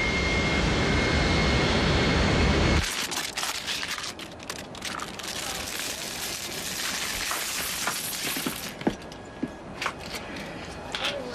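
Steady low roar of jet engines fills an airplane cabin, first as a dense uniform rumble, then a thinner drone with scattered clicks, bumps and cabin movement on top.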